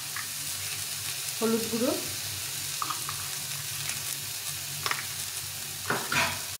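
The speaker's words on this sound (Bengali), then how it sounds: "বেগুনটা দিয়ে দিব। এটাকে ভালো করে ভেজে নিব।" Chopped eggplant frying in a pan for a methi shaak dish gives a steady, close sizzle with occasional stirring scrapes, while a voice speaks briefly over it.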